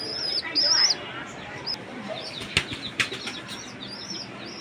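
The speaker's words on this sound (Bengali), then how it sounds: "আর উপরে হচ্ছে কবুতরের বাচ্চা, বাট বড় হয়ে গেছে বাচ্চাগুলো এখন।" Grown pigeon chicks in a home pigeon coop give short, high chirps and squeaks, with a burst of flapping wings near the start and a few sharp knocks later, all close by.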